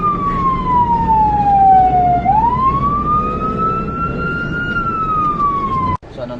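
An ambulance siren wails loudly and close by, one long sweeping tone that dips and then rises, with faint traffic rumble underneath.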